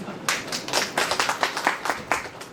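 An audience at a state convention in Gujarat claps hands, a close, fairly loud burst of rapid, uneven claps from a small group, with no talking over it.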